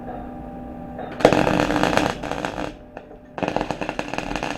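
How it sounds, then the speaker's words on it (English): Arc welding on dirty, ungrinded metal gives two loud bursts of harsh crackling and buzzing, each lasting over a second, separated by a short pause with a faint electrical hum underneath. "you start your arc on your clean piece of metal and then just transfer it quickly to the dirty bit, and then you should be able to start welding"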